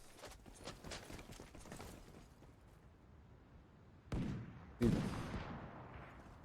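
Gunshots from a competitive shooter match, heard as two sharp, loud reports a moment apart near the end, following a stretch of softer, busy background action with no talk.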